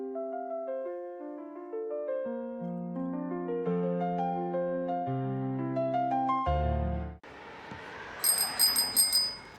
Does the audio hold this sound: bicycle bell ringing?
yes